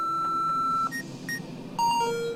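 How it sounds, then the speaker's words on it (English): Electronic beeps and tones from an explosives detector alarm in a short sequence, a long steady tone followed by brief chirps and two shifting pitched beeps, loud and close. "Traces of explosives have been detected, triggering an alarm."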